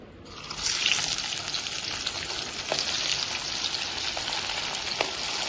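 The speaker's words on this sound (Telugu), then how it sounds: "ఆయిల్ వేడెక్కిపోయింది ఇప్పుడు ఫిష్ ముక్కలు వేసేద్దాం దానిలో" Fish pieces dropped into hot oil for a restaurant-style fish fry: the sizzle swells up loudly after a quiet start, then holds as a dense, steady crackle with small pops.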